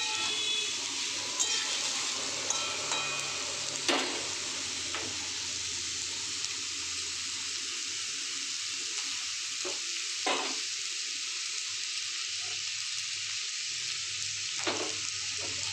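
Mixed winter vegetables sizzle steadily in a hot pan, with occasional scraping clicks of a spatula stirring them; a constant close frying hiss runs throughout with no talking.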